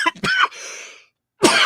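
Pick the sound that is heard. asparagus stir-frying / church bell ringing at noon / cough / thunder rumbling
cough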